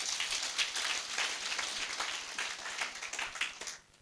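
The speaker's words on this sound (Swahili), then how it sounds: "Hebu tumpigie makofi" A crowd at a gathering of Kenyan elders claps steadily in a moderately loud, thick patter for several seconds, then the applause quickly fades away at the end.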